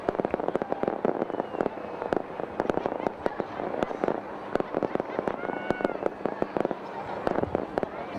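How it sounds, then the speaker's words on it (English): Night Magic fireworks at the 2024 Albuquerque Balloon Fiesta crackle and pop in a dense, rapid barrage of sharp bursts, with an announcer talking over the continuous crowd-filled outdoor din. "As our initial jumpers make their way in with Night Magic fireworks"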